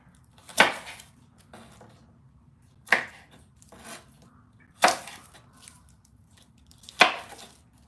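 Garlic cloves crushed to loosen the skin, four sharp, loud thumps spaced a couple of seconds apart, each with a short rattle after it, close up with no talking.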